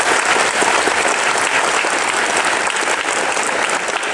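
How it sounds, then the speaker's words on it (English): Steady, dense applause from a live audience at an EGX developer session stage, loud and sustained for the whole stretch with a faint crowd murmur underneath. "Let's give them a big warm round of applause."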